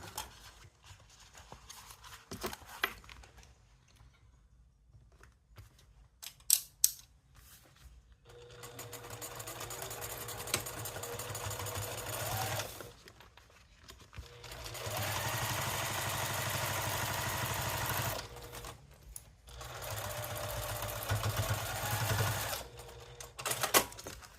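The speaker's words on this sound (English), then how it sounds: "once again, we are going to be top stitching" A sewing machine top stitches a cork fabric pouch in long steady runs, loud and close, with brief pauses between passes and quieter handling at the start.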